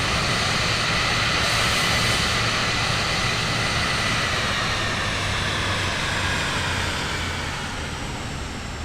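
A plane taxiing in Microsoft Flight Simulator 2024 on a leg from Berlin to Copenhagen gives a loud, continuous engine roar and broadband rush that holds steady throughout, easing slightly toward the end, with no voices.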